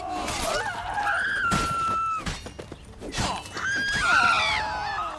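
A horse whinnies loudly twice in The Witcher 3: Wild Hunt, shrill rising neighs with crashing, shattering noises between them during a chaotic fight scene.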